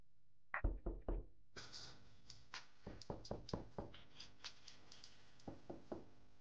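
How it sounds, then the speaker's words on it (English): Knocking on a wall, heard as a quick burst of sharp knocks followed by a longer irregular run of hard raps, fairly close and on its own with no voices. "I thought the neighbors was knocking on the wall"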